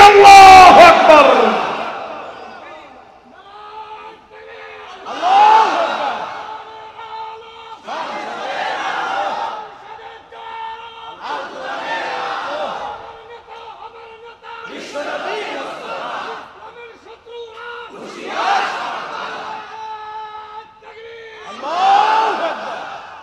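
A large crowd shouts the takbir in unison, a chant repeated about six times in rhythmic bursts with pauses between, loud and reverberant at a religious gathering.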